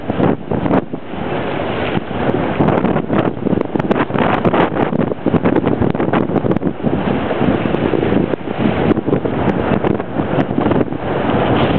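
High wind roars over a sailboat on a Sunday morning, a loud, constant, gusting rumble of wind striking the microphone, mixed with water wash and no talking.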